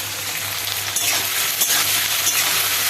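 Green chilies frying in hot oil alongside chopped onion, a steady crackling sizzle that grows louder midway, with faint stirring clinks.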